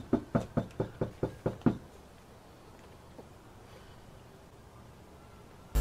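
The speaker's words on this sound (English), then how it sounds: "Let's knock on this door." A series of seven quick, sharp knocks on a door lands in a steady rhythm, close and loud, then stops, leaving a quiet room with faint background noise.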